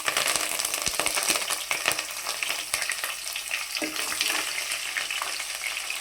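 Curry leaves and dried red chilies fry in hot oil for a Telugu drumstick-leaf and sesame-cake dish, giving a steady, dense crackling sizzle with occasional stirring clatter, close and loud throughout.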